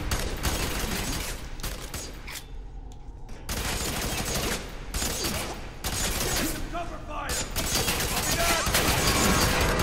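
Heavy gunfire in the video game F.E.A.R. 3, dense loud bursts of automatic fire with brief lulls, sustained and close throughout.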